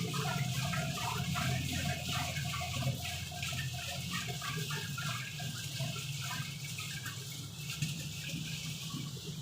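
Water pours steadily and continuously into a liquid mixer machine's tank, a constant rushing splash with no pauses throughout.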